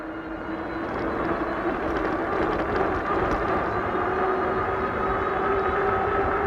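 A LANKELEISI RV700 fat-tyre electric bike accelerates hard on throttle alone, giving a steady, loud rushing drone of motor whine and wind that holds level throughout without any talking.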